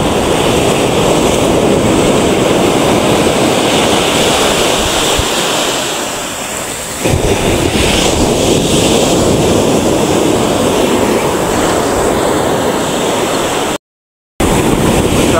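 Strong ocean surf pounds the shore on a fishing outing, loud roaring wash of waves with wind buffeting the microphone, briefly easing midway before surging again, no talking.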